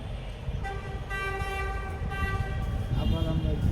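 A train horn sounds outside, picked up by a wireless microphone with its noise cancellation switched off, a sustained tooting tone held for a few seconds over steady low rumble and background talk.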